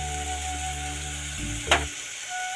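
Green chillies, onion and sesame seeds sizzle in hot oil, a steady close frying hiss with a brief sharper crackle burst partway through as more goes into the pan.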